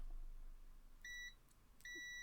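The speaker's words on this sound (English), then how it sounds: "so now we have a beep when I touch the parts" A multimeter gives continuity beeps as its probes touch parts: two short clear tones about a second apart, each lasting a fraction of a second, against a quiet background.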